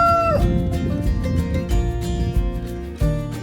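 Chickens and a rooster cluck busily in a backyard flock. Short overlapping clucks and squawks sound close and lively, with one drawn-out call at the start and no talking.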